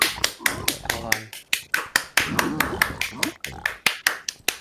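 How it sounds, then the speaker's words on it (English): Hands clap in a steady, quick rhythm, sharp close claps repeating throughout while a person talks over them. "you can stop clapping."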